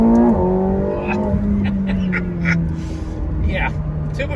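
A McLaren 720S turbocharged engine starts and roars up close, its deep tone sweeping and settling into a steady rumble, with a person talking over it.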